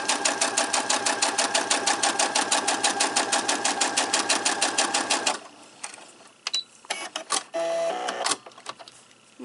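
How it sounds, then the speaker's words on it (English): A sewing machine stitches a four-patch quilt block, a fast steady mechanical chatter running for about five seconds, then stopping, followed by scattered fabric handling and small clicks. "I am just going to sew down"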